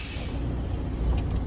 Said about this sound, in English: My trailer brakes are holding.